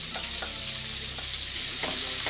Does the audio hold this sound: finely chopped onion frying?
yes